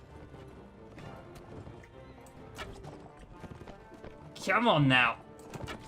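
A horse gallops in the video game Mount & Blade: Warband, its hooves drumming in a quick, steady clip-clop under battle noise. Someone briefly speaks, and a loud, harsh burst of sound cuts in near the end.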